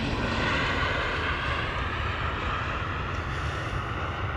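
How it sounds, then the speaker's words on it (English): KLM Boeing 737 landing at Amsterdam Schiphol Airport, heard as a loud continuous jet engine roar mixed with heavy wind buffeting on the microphone, steady and unbroken throughout. "following that contrail made us miss the landing of a KLM 737"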